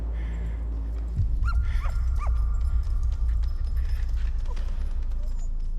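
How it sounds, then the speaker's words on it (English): A dog in a scene from the TV series Dark whimpers with several high rising yelps, then gives a few softer whines. Footsteps or knocks and a low background rumble run underneath. "Oh, the dog."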